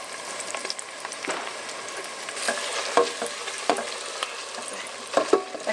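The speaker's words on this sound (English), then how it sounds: "stir the tomato paste into the onions and cook until browned and aromatic" Tomato paste is stirred into onions frying in a pan: a low steady sizzle broken by a few scraping strokes of a spoon, close and fairly quiet.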